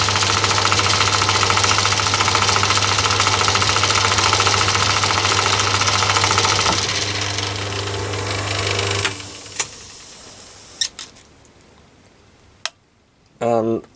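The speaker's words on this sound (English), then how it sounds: "So I start the lathe up. And just test it on the back there." A Myford ML7 lathe fitted with new spindle bearings runs loud and steady with a constant whirring hum and a rapid ticking knock. It then winds down and stops, leaving a few sharp clicks and knocks near the end.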